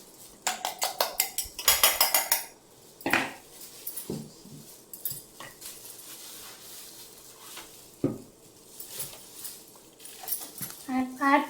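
An egg and powdered sugar mixture for mutta mittai is beaten in a bowl, a quick run of clattering strokes at the start followed by sparser clinks, with someone talking throughout.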